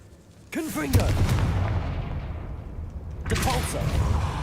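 A Confringo fire spell in Hogwarts Legacy, cast inside a tomb, erupts as a sudden booming blast that sustains a rumbling roar, followed by a second burst a few seconds later, with a brief voice near the start.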